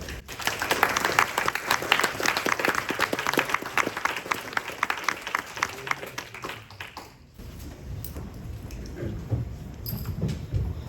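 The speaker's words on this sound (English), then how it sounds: "Please join me with a round of applause as we welcome Talon Silverhorn." An audience applauds to welcome a speaker at a talk given near Xenia, with dense, steady clapping for about seven seconds that then thins into scattered claps and quieter room noise.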